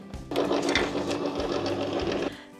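A die-cutting machine rolls a flower-petal die, thin metal shim, magnetic plate and top cutting plate through its rollers, giving a steady mechanical whirring grind of about two seconds that starts and stops abruptly, with no talking.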